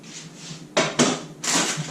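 A saucepan is handled in a kitchen: a few sharp metallic clanks and knocks, close and fairly loud, set against a quiet background.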